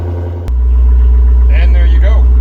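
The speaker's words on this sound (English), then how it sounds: "All I have to do is start the engine." A Hurricane I6 twin-turbo car engine cranks with a sharp click, then catches and settles into a loud, steady idle that continues close by with a faint whirring on top.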